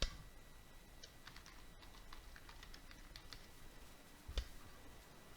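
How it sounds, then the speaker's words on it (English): Quiet, rapid keystrokes on a computer keyboard as a PowerShell command is typed, a steady run of light clicks with a slightly louder tap near the end. "we're going to type in the command"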